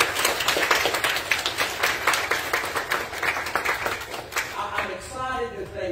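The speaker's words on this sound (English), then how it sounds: "give a round of applause for these two folks that put in their time." A church congregation at a Sunday service applauds steadily for several seconds, a dense, even wash of many hands clapping that thins slightly toward the end.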